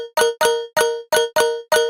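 Synth bell chord stabs from a Serum patch, six short bright bell-like hits in an even rhythm, each decaying quickly, played alone.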